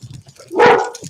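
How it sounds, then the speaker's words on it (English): A dog gives a single sharp bark at close range, with faint background noise around it. "When did they get dogs in there, TJ?"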